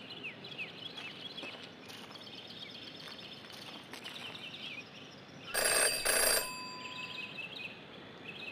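Telephone ringing in the Jenny LeClue video game, a sharp burst of two bright rings standing out over quiet ambient chirps and soft background sounds.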